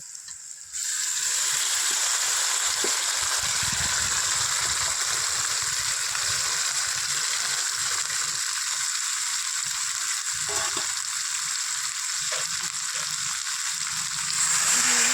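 Pointed gourd and prawn paste sizzle loudly and steadily in a hot pan, a dense continuous frying hiss with faint stirring clicks, louder again near the end.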